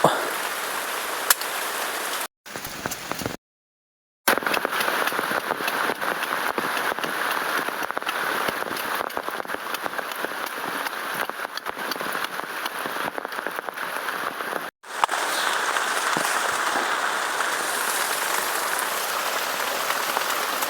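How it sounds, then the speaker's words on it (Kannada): Steady, dense rain patters on a surface in the Malenad region of Karnataka, loud and continuous, with a couple of brief dropouts. "ಮಳೆ ಬೇರೆ ಬರ್ತಾ ಉಂಟು"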